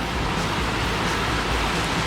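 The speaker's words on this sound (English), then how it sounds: "Look at all these waterfalls." Waterfalls on a Big Sur hiking trail at Limekiln State Park, heard as a steady, dense rush of falling water with constant broadband hiss and no breaks, close and fairly loud.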